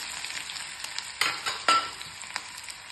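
Finely chopped onion fries in oil over a medium gas flame, giving a soft, steady sizzle with a few sharper stirring scrapes close by.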